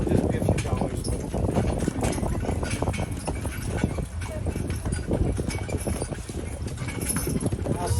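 Horse hooves clip-clopping during a ride through Solvang, California, a steady trotting patter heard with busy outdoor noise and people talking over it.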